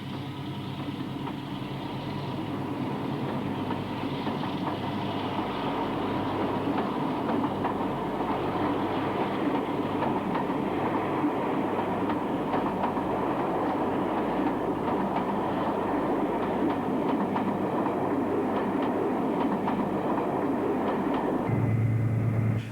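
A British Warship class diesel locomotive pulls away from a station, its diesel engine rumbling steadily as the carriages roll with faint rail clatter, sustained for over twenty seconds before a late shift in the tone, no talk.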